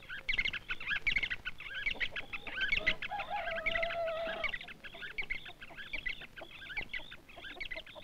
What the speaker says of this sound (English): A bird chorus of Dano's barbets calls them as soon as the sun is up.